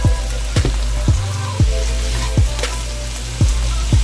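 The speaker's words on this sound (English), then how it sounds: "Alright, the onions cooking" Onions sautéing in a pan, an even background sizzle punctuated by regular low thumps and scrapes from stirring, close and moderately loud with no talking.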